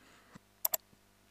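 A couple of sharp, close keyboard clicks in quick succession, a key press such as Enter on a computer keyboard, with a faint tap before and after in a quiet room.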